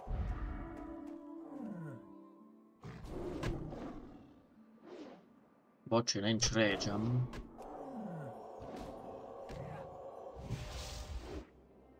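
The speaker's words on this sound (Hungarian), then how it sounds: "gyere, az a medve nehogy betámadjon" A bear roars and growls in a video game, several loud, drawn-out bursts with a sharp peak midway, mixed with game effects and someone talking in between.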